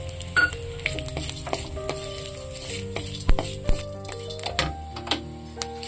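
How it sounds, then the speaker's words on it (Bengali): Cumin, chilli, five-spice and whole garam masala fry in hot mustard oil, with a loud, steady sizzle broken by crackles, pops and clicks of stirring against the pan. "এবারে এর মধ্যে আমি জিরে মরিচ 5 ফোড়ন এবং গোটা গরম মশলাটাকে সুন্দর করে লাল লাল করে ভেজে"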